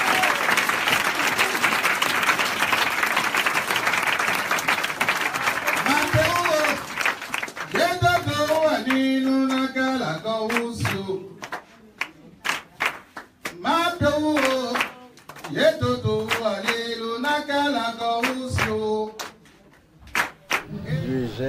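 Loud, sustained applause and clapping from a congregation at a church service, fading out as a voice takes over and speaks at length.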